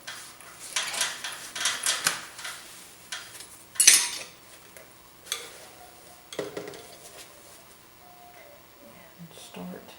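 White paint is mixed on a palette for a landscape of a field of pansies. A brush or knife makes short scraping and tapping strokes in irregular bursts that come close and fairly loud, then fade to a quieter stretch.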